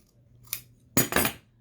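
Scissors cutting fabric, two short crisp snips close by, the second longer and louder, in a quiet room.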